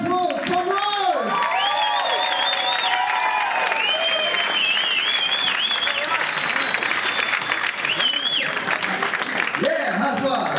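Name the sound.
audience applause and cheering after comedy show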